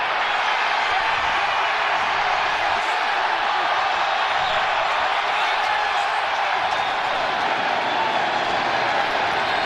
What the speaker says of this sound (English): You heard the crowd going crazy